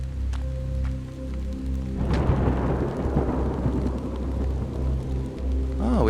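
Rain in the video game Hollowbody comes in as a steady wash about two seconds in. Low rumbling and a droning ambient hum lie beneath it, and no one speaks.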